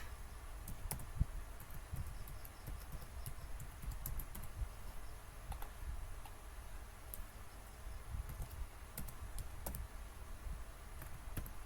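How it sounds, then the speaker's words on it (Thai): A password is typed on a computer keyboard, heard as faint, sparse key clicks in quick irregular bursts over a low background hiss. "กดจากนั้นก็พิมพ์รหัสนะคะ"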